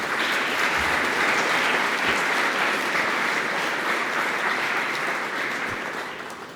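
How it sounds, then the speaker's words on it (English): Warm applause from a PyData London audience greeting the chair as he takes the stage, a full, sustained wash of clapping that tapers slightly at the very end. "Give him a warm round of applause"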